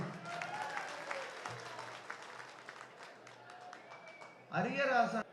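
Audience applause at a Tamil Nadu Devaswom event praising Sabarimala work, a steady wash of clapping through most of the stretch before a voice speaks loudly over it near the end.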